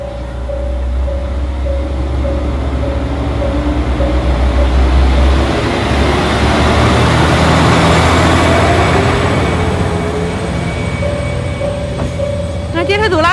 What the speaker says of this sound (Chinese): 那电车走了，电车拜拜